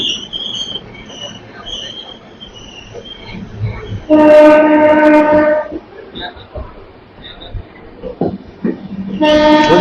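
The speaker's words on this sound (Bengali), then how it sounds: "প্রায় 5 মিনিট দেরিতে আমাদের ট্রেন ছেড়ে দিল বর্ধমান জংশন একদম" A local train departs Bardhaman Junction, its rumble running under loud chirping insects, while a train horn sounds in two strong blasts, one long in the middle and another at the end.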